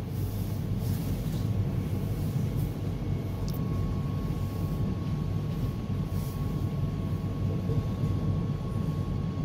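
Interior of a moving RE11 regional train, a steady low rumble and rolling rail noise throughout with a faint constant tone and occasional light clatter, no talking.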